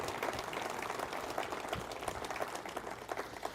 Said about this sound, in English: would you give them a round of applause because we very much appreciate their ministry.